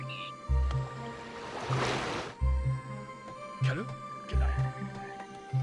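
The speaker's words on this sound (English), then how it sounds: "Can you guys hear these waves?" Ocean waves wash in the Populous video game, a soft surf that swells into a hissing crash and recedes, while a person talks over it in short bursts.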